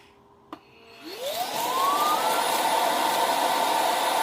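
After a sharp click, a robot vacuum's clean base spins up with a rising whine into a loud, steady suction roar as it empties the dustbin, close by with no talking.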